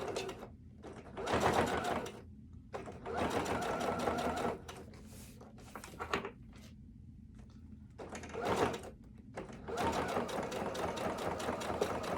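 A sewing machine stitches a notepad in several bursts of rapid needle chatter, pausing between runs, close and fairly loud.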